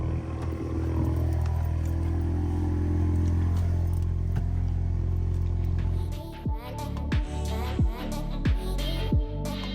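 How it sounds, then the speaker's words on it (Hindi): A newly bought car's engine rumbles in a steady close drone, then gives way after about six seconds to a series of sharp, rising revs repeated in short bursts, with no talk. "नई गाड़ी लिया थी, आवाज़ तो आपको सुनानी थी उसकी।"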